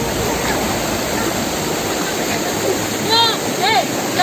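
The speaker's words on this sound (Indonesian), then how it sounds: "Ini langsung dari air terjun Sirom." Steady broadband rush of a waterfall, Sirom falls in Aceh Besar, fills the clip, with a few brief chirpy tones near the end over the constant roar.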